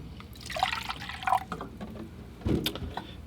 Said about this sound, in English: Start out with some fresh, clean water again.